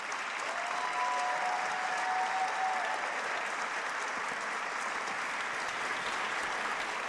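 Sustained applause fills a State of the State address hall, a steady dense roar of clapping from a large audience throughout, with no talk over it.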